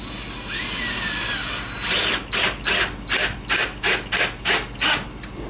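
A power drill drives deck screws while building wheel cribs, with a ratcheting motor whine in about eight short, evenly spaced bursts, close and loud, after a quieter stretch of background noise.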